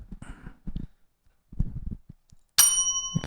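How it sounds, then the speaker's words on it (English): A small metal bell, marked as one to ring for a beer, gives a bright clang near the end with a lingering ringing tone, following a stretch of muffled, sparse knocks and handling sounds. "Trav, what is this bell doing here?"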